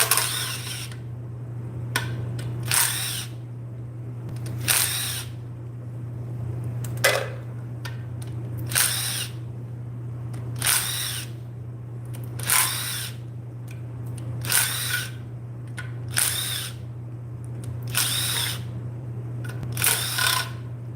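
Power drill spinning bolts out of an engine in a garage, about a dozen short whirring bursts in a steady rhythm every couple of seconds, close and loud over a constant low electrical hum.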